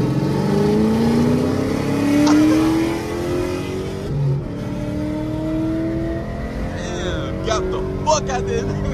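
Street cars revving hard and racing past at a legal pit event in Jacksonville, Florida, loud close engines climbing in pitch through gear changes, with a burst of crowd voices near the end.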